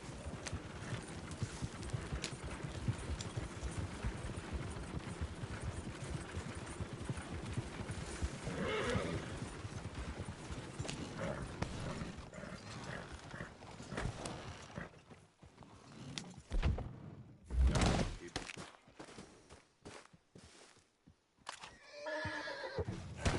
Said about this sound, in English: There's a horse gone. Horses, Arthur.